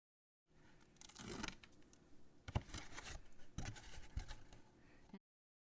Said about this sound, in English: now I'm going to go ahead and remove the tear and tape, the rest of the tear and tape